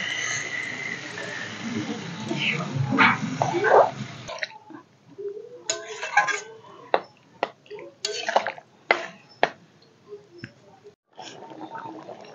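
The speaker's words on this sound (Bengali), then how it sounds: "এখন এর মধ্যে দিয়ে দিব অল্প জল।" Water is poured into a pan of cooking papaya and potato curry, a steady splashing pour lasting a few seconds, followed by scattered clinks and stirring taps against the pot.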